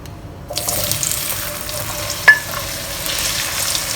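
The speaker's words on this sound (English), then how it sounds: "When the oil is hot, we'll put in the potatoes." Three potatoes cut into cubes drop into hot oil for shallow frying and start a steady, close hiss of sizzling that continues for several seconds.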